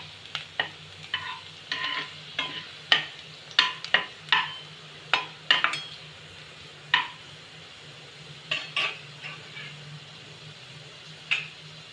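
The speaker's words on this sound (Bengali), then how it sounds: "এইগুলোকে একটু নেড়ে নেব। আমি কিন্তু লাল করে ভাজবো না রসুনটা" Ginger and garlic being stirred in a frying pan on low heat, with soft frying underneath and a run of light, irregular scrapes and taps from the spoon against the pan.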